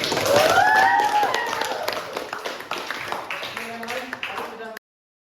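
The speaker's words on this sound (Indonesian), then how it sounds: "Terima kasih Aris, berikan tepuk tangan." Students in a class give a round of applause, scattered clapping loudest at the start and thinning out over about five seconds, with faint voices underneath, before cutting off abruptly.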